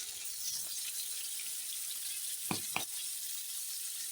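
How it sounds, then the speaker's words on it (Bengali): Pointed gourd and potato pieces fry in oil with a soft, even hiss at fairly low volume, marked by two quick clinks near the middle and no voices. "পটলটাকে ভেজে নিই পটলের সঙ্গে আলুগুলো দিয়ে দিই ভাজা হয়ে যাবে"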